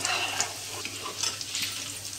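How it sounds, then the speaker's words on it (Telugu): Mustard seeds, cumin and urad and chana dal frying in hot oil for a coriander pickle tempering, a steady soft sizzle with light scraping as the mixture is stirred, alone, close and fairly quiet. "అట్లా నూనెలో బాగా పైకి కిందకి అన్నట్లు బాగా కలబెడతా ఉంటే పప్పులు కూడా బాగా ఉడుకుతాయి, ఏగుతాయండి"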